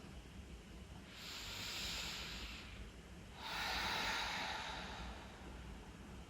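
Slow, deep breaths during a chair yoga session, two long airy exhalations heard close and alone, each lasting about two seconds with a pause between them.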